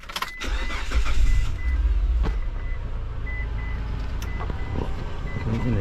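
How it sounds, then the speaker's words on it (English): A 2003-2006 Mitsubishi Montero engine cranks briefly, catches with a loud low rumble, then settles into a steady idle, with electronic dashboard chimes sounding over it and a few clicks. "Let's start the engine."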